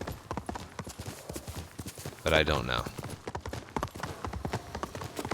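Horse hooves clip-clop steadily while riding in Ghost of Tsushima, a quick, even rhythm of close hoofbeats running throughout, with a brief whinny-like burst midway and a voice talking over it.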